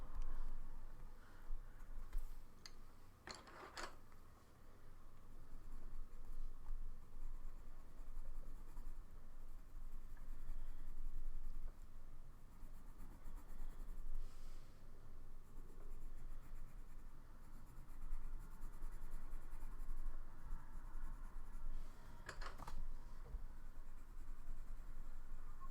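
Steady scratchy pencil strokes on paper, continuous and close, with a few sharper scrapes now and then, no voices.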